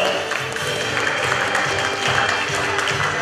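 An audience applauding at an award ceremony for a children's drawing contest, a steady, dense wash of clapping from many hands that holds evenly throughout without breaks.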